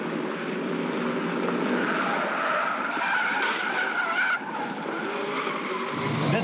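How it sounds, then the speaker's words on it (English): A stunt car skids through repeated 180-degree spins on a film set, tires screeching loudly and continuously over a roaring engine, with no talk. "he was doing 180s and reverse 180s and forward 180s and banging cars"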